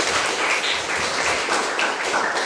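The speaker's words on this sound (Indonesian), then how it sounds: "Tepuk tangan untuk kalian." Students in a classroom applaud together, a steady dense patter of many hands clapping at close range with no talk over it.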